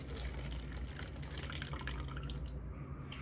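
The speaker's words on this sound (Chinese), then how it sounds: "拿这个杯子往里面倒水" Water poured from one cup into another in a simple magic trick, a steady close trickle running alone for a few seconds.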